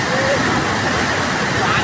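Rising floodwater pours over a weir during heavy rain near Moshi–Chimbali, Pune, making a loud continuous roar of rushing water with water hyacinth carried along, heard up close as a dense, unbroken wash.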